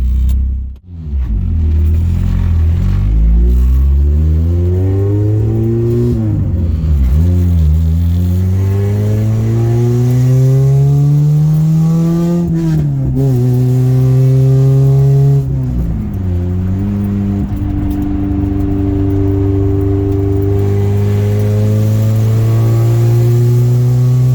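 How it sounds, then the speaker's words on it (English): Engine of a Honda engine-swapped car under load on the road, revving up through the gears with rising and falling pitch, loud and continuous with rough, uneven pulses of a misfire, no talking. "Something weird is going on though. It's like misfiring really bad on"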